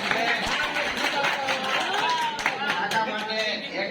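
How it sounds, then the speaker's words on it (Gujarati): Audience clapping at a village farmers' meeting for a BASF company, a steady dense patter of hands filling the room, with voices and chatter mixed underneath throughout. "એક જોરદાર ફરીવાર એક તાળી થઈ જાય"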